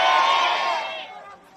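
Supporters at a Democratic Party campaign rally in Hanam, Gyeonggi, let out a loud burst of cheering and shouting that swells at once and then gradually fades away.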